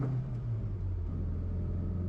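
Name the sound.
classic Mini car engine driving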